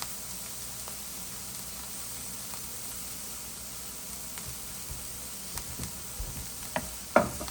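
Ground beef and seasoning sizzling in a pan with sautéed onions, a steady soft hiss of frying with a few clicks and taps of stirring growing louder near the end.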